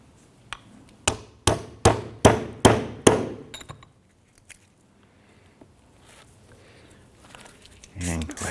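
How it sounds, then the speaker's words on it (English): Large socket hammered to tap a drum brake cup out of its bracket on a 1994-2004 Chevrolet S-10, giving six loud, evenly spaced metallic blows close by, then quiet, with a brief rustle at the end. "we went ahead and just got a large socket and we want to go ahead and tap this out."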